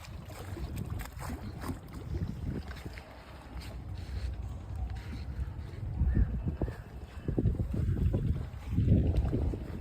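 Wind blowing along a walking path beside the Ganges at a riverside resort near Kolkata buffets the microphone with a low, rumbling roar that swells in gusts and grows stronger toward the end.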